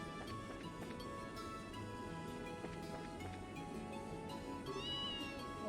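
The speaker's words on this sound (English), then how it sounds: "Oh look, there's the cat." Cat meowing in Trails in the Sky FC, a few short meows set within dense, steady game music and ambience, with a brighter rising call near the end.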